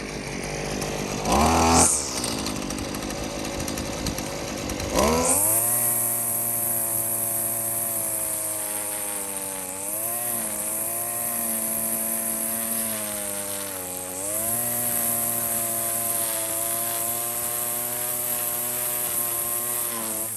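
A Husqvarna 128CD/LD string trimmer's small two-stroke engine starts with a pull, then idles and revs steadily, buzzing close by with slight rises in pitch.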